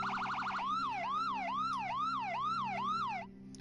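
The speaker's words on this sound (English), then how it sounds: "This cop siren horn, the original one, it's out. This is what it sounds like." Police car siren horn from The Crew 2 racing game, a rapid warbling wail that shifts into a slower rising-and-falling whoop repeating steadily, loud and close over a low engine hum, then cutting off near the end.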